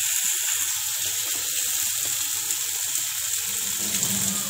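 Rohu fish kofta filling mixed with gram flour (chhatu) sizzles steadily as it roasts in a little oil in a pan, a continuous close frying hiss with faint scraping from stirring throughout.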